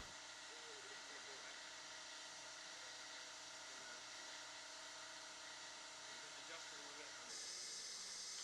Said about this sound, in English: Vacuum's on. You can see that sucks all the air out.